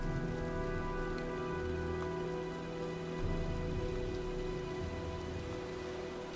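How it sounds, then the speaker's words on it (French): Steady rain patters over a low, constant hum as a storm gathers in the video game Heavy Rain, a soft, continuous wash of falling drops with no voices. "Je crois qu'un orage se prépare."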